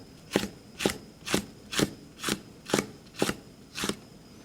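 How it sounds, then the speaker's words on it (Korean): A knife slices Cheongyang chili peppers on a cutting board in eight evenly spaced, crisp chops at a steady rhythm, close and clear, with no speech. "청양고추는 일단 미리 썰어 놓도록 하죠"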